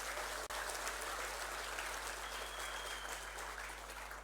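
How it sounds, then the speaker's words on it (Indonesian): An audience at a large indoor event claps in a continuous, even round of applause that tapers slightly toward the end. "Tepuk tangan buat Anda semua"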